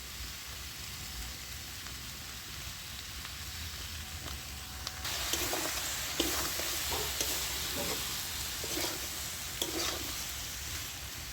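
Jackfruit and potato curry frying in a pan, a soft sizzle that swells louder partway through as stirring begins, with repeated scraping strokes over continuous crackling frying, close and without speech.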